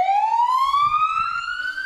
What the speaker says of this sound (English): They would sound the siren